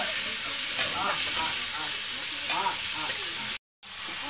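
Pieces of country chicken with turmeric powder sizzle steadily in a hot pan while being stirred, with soft scraping strokes over the continuous frying hiss and a brief dropout near the end.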